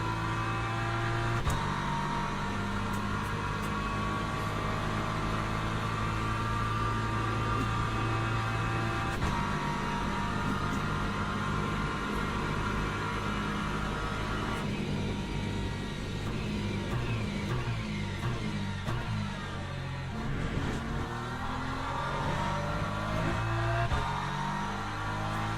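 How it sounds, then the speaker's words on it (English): Race car engines in Le Mans Ultimate, a continuous loud drone of the player's car with shifting engine tones as hypercars close in from behind, no talking. "here come the hypercars"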